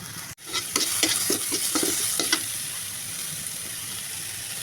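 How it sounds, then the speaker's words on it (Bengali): Onions with cardamom and cinnamon fry in a pan, a close, steady sizzle with a series of scraping stirs in the first half, then continuous hiss. "সাদা এলাচ কালো দারচিনি এগুলো ভেজে নেবো একসঙ্গে পেঁয়াজের সঙ্গে"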